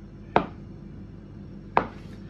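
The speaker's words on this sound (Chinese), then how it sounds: "然后呢用面刀或者这个切菜的刀都可以啊" Risen bun dough cut with a dough scraper or kitchen knife: two sharp, separate chops against a board about a second and a half apart, close and clear over a quiet background.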